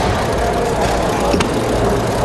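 A 19-3 Vaughn model engine built from a casting kit runs at high RPM, a loud, steady, dense buzzing whine with no pauses.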